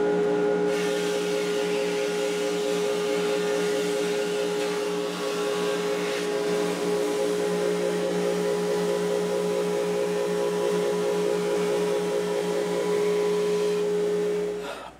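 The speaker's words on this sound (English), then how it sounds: "we might even just jump right into the thickness sander because it's such a cool tool" A thickness sander hums steadily as it works laminated guitar-neck wood, a loud continuous drone with a strong tonal whine and faint rhythmic pulsing, starting abruptly and cutting off at the end.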